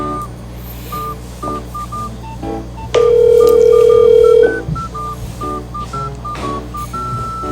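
A sequence of short electronic phone keypad tones beeps out a number, interrupted by one longer steady tone, with faint background hum.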